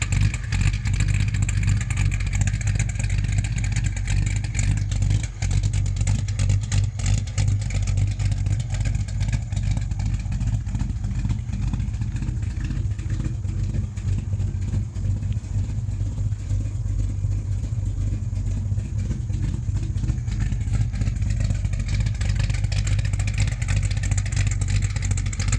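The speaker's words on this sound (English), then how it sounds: "Sounds great through full exhaust." A 1970 Plymouth Duster 340 street race car runs through a full exhaust, a loud, steady, deep engine rumble holding close throughout with slight rises in revs and no talk.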